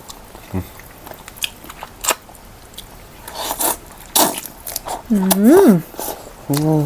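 Crunchy chicken feet eaten with khanom jeen in a spicy Isan noodle curry: scattered crisp bites and crackles up close, interspersed with chewing and several hummed, appreciative vocal sounds.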